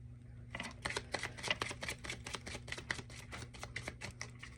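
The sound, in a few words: shuffling tarot cards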